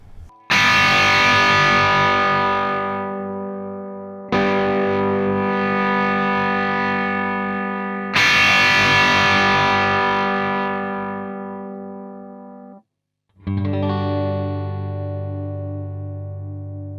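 Loud electric guitar chords from a custom-built guitar ring out in long sustained strums, four in a row, with the bright treble fading away gradually over each one.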